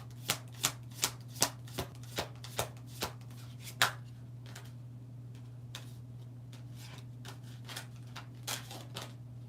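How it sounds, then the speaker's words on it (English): Tarot cards are shuffled in a quick series of crisp riffling snaps, then softer scattered flicks, over a steady low electrical hum. "So I'm trying to shuffle these cards."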